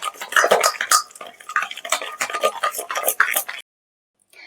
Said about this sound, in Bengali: এভাবে চামচ দিয়ে ভালো করে এটাকে মেখে নিতে হবে।